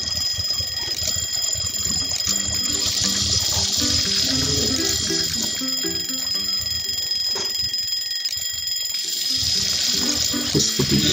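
Bells and kitchen timers ring nonstop in the cooking video game Papa's Pancakeria, a loud, continuous, bright jangle of rapid alarm-like trills layered over steady game sounds.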